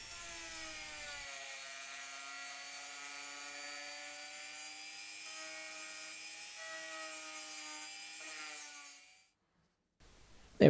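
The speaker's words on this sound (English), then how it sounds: "so just cleaning it up with the Dremel." A Dremel rotary tool whines at a steady high pitch as it grinds the rough edge of a drilled hole in a spinning-top handle, close and continuous for about nine seconds before it cuts off and spins down into silence.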